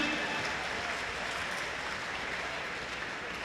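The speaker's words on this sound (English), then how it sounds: "big round of applause for both of these fighters making their Muay Thai debut tonight." A crowd at a Muay Thai fight night applauds two fighters making their debut, giving a dense, steady clapping roar that holds evenly throughout.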